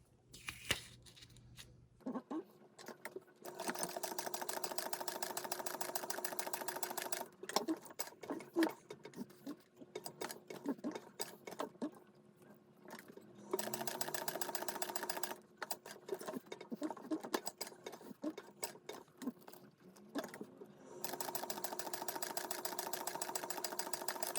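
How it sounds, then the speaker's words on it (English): A sewing machine stitches fabric for a small bug pack, with a short backstitch. Close, buzzing runs of stitching come in several bursts, separated by brief pauses, with no talk. "I'm gonna just backstitch right here, but we're just gonna go around the bottom swoop here."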